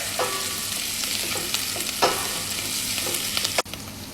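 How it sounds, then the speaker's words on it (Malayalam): Ginger, garlic, curry leaves and green chili sizzle steadily in hot oil for a mango and carrot pickle, with a few stirring scrapes and one sharp knock near the end. "ഇഞ്ചി, വെളുത്തുള്ളി, കറിവേപ്പില, പച്ചമുളക് ഇട്ട് കൊടുത്തിട്ടുണ്ട്."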